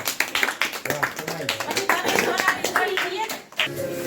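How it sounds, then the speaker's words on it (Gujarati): Hands clap at a child's birthday celebration for Parth at home as a silver chain is given, a steady run of bright, near claps mixed with lively voices talking and singing throughout. "તાળી પાડો બધા"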